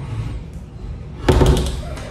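A newly installed door in a factory worker's room in South Korea shuts with a single fairly loud thud and rattle, heard over low background rumble.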